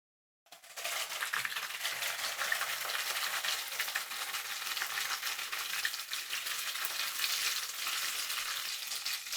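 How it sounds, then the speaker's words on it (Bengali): Prawns fry in a pan, with a steady, crackling sizzle that starts abruptly after a moment of silence and continues evenly, with no other sounds. "চিংড়ি মাছের দুই পাশটাকেই জাস্ট আমরা দুই মিনিট মতো ভেজে নিব"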